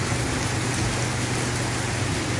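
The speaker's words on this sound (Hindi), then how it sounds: "ये देखो कितनी तेज बारिश हो रही है।" Heavy rain pours down in a stormy downpour, a dense, steady hiss of drops drumming on surfaces that stays loud and even from start to finish, with no voices.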